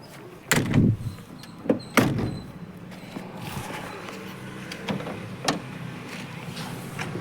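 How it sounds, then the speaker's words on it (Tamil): The rear tailgate of a used Toyota Qualis is unlatched and swung open. Several sharp metallic clunks and latch clicks are followed by a few softer knocks, close by and with no talk. "டிக்கி ஓப்பன் பண்ணி காட்டுற மாதிரிங்க"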